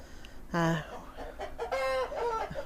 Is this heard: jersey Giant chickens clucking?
yes